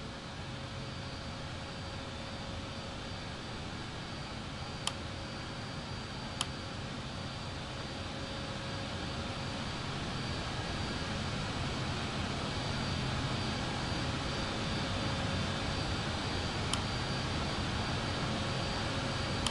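An Airbus A220-300 jet engine starts up in a flight simulator game, a steady broadband whine and roar that holds at an even level throughout, with a couple of faint clicks and no talk.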